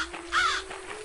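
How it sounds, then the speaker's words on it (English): A single crow caw inside a vampire role-playing video game, clear and fairly close, rising out of a steady electronic tone and quiet ambient background, with no talking. "Oh, I got a crow."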